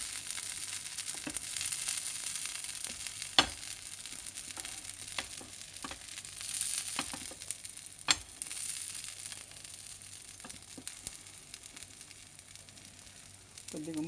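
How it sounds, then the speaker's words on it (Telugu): Ragi uttapam frying in oil in a covered pan, a soft steady sizzle with occasional sharp crackles and pops, fairly quiet, with faint talk. "కొద్దిగా మూత పెట్టి వేగనిద్దామండి."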